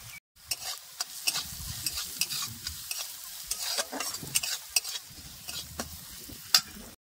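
Onion and dry red chilli fry in a pan while a spatula stirs them repeatedly, giving a soft sizzle under a string of scraping, clicking strokes with no talk.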